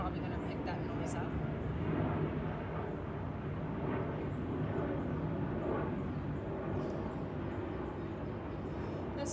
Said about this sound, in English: There's a plane flying overhead, so I'm going to wait until that passes